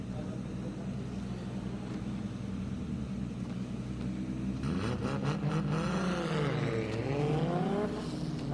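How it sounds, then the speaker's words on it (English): A drift car on a competition track revs hard, its engine note climbing and sweeping up and down in loud, sustained bursts over steady background noise, with a faint announcer voice underneath. "Plenty of sound coming from Eric's car."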